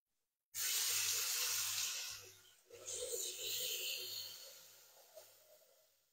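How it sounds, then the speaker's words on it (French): Water runs from a tap into a Thermomix bowl, 500 g added for a velouté after the ingredients have browned, a close, steady splashing pour that briefly breaks off and resumes before trailing away, with no talking. "j'ajoute mes 500 g d'eau qui m'étaient demandées tout à l'heure"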